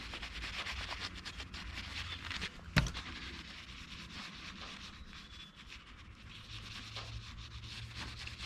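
A microfiber cloth rubs foil onto a custom fishing lure in a steady, scratchy back-and-forth that stays close and fairly quiet, with one brief sharp knock partway through.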